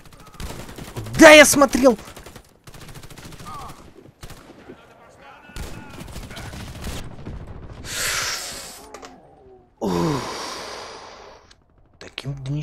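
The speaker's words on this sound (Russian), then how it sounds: "А, это наш снайпер стреляет." Sniper rifle shots in the video game Warface, a few sharp cracks standing out amid other gunfire and game noise, with players talking throughout.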